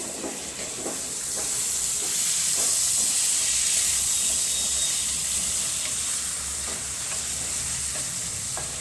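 Thick-cut tomatoes hitting a hot pan while cooking a vegetable dish, a steady loud sizzle and hiss with occasional stirring scrapes, close by and with no talk.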